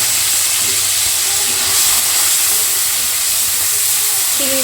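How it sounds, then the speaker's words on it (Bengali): Shrimp frying in hot mustard oil, a steady, loud, close hiss and sizzle that runs without a break. "এবারে এই তেলের ভেতরে আমি দিয়ে দেব চিংড়ি মাছটা দিয়ে"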